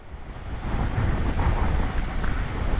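Strong wind blows straight at a vehicle on a road trip toward Ladakh, a loud, rushing roar that buffets the microphone, swelling after a quieter start and staying heavy, with no voices.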